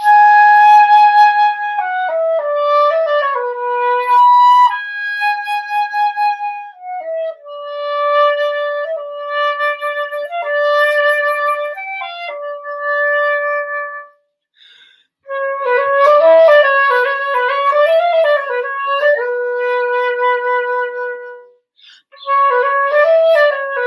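A school band plays a melodic piece with sustained sounding notes and shifting phrases, bright and clean, pausing briefly midway before resuming, with no talking.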